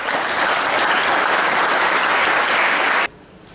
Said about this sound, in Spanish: fortísimos aplausos.